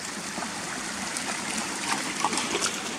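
A stream running down from waterfalls makes a steady, close rushing and trickling wash of water, continuous and fairly loud with no talk.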